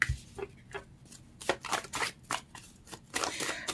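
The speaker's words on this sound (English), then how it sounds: "I just kind of want to shuffle them" Tarot cards are shuffled by hand in a quiet room, a series of soft riffling bursts with short pauses between them, close and clear with no talking.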